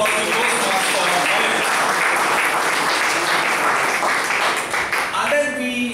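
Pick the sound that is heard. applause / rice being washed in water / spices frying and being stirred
applause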